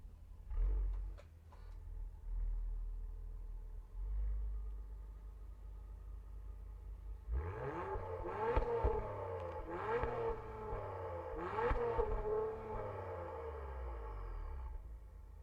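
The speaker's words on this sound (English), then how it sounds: "let's take a listen to that exhaust" An Acura TLX Type-S engine idles quietly, then the quad exhaust barks through several sharp revs that rise and fall in pitch, fairly close and loud.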